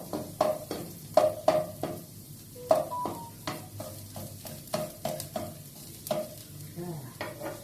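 Vegetables and garlic frying in a little oil for a simple Thai mixed-vegetable soup, with repeated scraping stirs of a spatula against the pan over a soft sizzle, some clinks of utensils, no talking.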